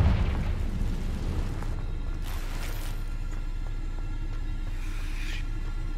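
A Confringo fire spell explodes in the Hogwarts Legacy video game, opening with a heavy low boom that rumbles and decays, followed by a few fainter crackling bursts and pops.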